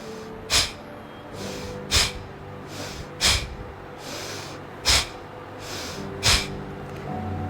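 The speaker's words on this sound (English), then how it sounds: "breathing out, pulling the tummy in and throwing the air out with a jerk." Five sharp, forceful exhalations, each made by jerking the stomach inward during a seated breathing exercise with hands on the knees, come as loud breathy bursts at a steady pace of about one every second and a half, with quiet between them.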